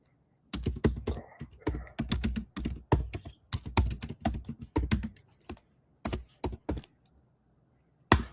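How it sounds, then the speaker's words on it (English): A caption being typed on a computer keyboard: close, crisp key clicks in quick irregular bursts with short pauses, then a few final isolated taps. "Let me just type in this caption to pin at the top"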